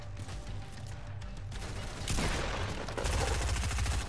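Rapid bursts of automatic gunfire in a Fortnite match, loud and continuous, growing heavier and denser partway through as the shooting intensifies.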